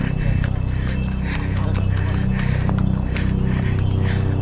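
Horses clip-clop along the Kedarnath trek, a run of regular hoof strikes close by over a low steady hum and background noise.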